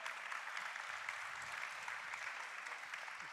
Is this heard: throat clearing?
no